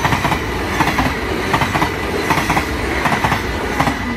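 A train rolls past on the railway at Nieuwstadt, loud and close, its wheels beating out a steady clickety-clack rhythm over a constant rumble, with no voices.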